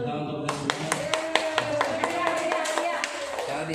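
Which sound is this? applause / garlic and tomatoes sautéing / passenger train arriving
applause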